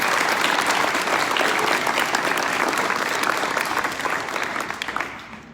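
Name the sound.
graduation audience applauding athletes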